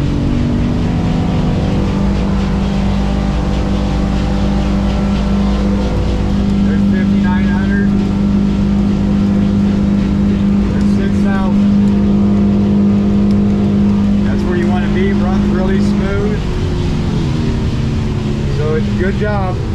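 A boat's outboard engine runs under steady throttle with a loud continuous drone, the motor working hard on the water while someone talks over it.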